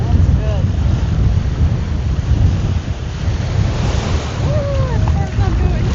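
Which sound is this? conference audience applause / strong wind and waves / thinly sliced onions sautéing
strong wind and waves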